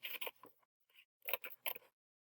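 Scissors snipping along the closed folded end of a sheet, a few crisp close cuts in two quick bursts separated by a short pause, no talking.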